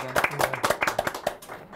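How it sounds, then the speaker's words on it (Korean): Studio audience applause at a Korean talk show taping, a short burst of scattered, fairly soft hand claps in an uneven patter, mixed with voices talking over it. "박수!"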